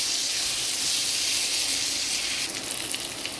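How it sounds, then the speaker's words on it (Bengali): Potatoes and eggplant frying in hot oil give a steady, close sizzle with a bright hiss that holds without a break and eases slightly toward the end. "এবার আলু আর বেগুনটাকে আমি খুব ভালো করে ভেজে নেব।"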